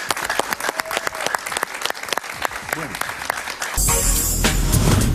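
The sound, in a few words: audience applause for a guest on a TV show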